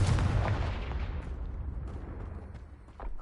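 A Confringo fire spell bursts in the Hogwarts Legacy video game with a loud, close explosive boom that rumbles and crackles, then slowly fades into a lingering roar over about three seconds.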